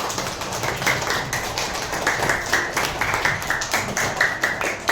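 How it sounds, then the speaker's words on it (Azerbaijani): Children clapping their hands together, a dense, steady patter of claps close by and fairly loud, continuing without pause. "Əl çalın uşaqlar."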